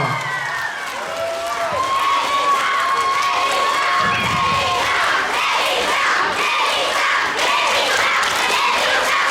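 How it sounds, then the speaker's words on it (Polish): A large audience cheers and shouts loudly and steadily throughout the awards ceremony of a children's dance competition, with excited whoops and yelling rising over a continuous crowd roar. "To się nazywa doping."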